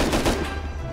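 Automatic rifle fire in the game Rust, a rapid burst of close, loud shots in the first half that tails into a ringing decay, with no talking.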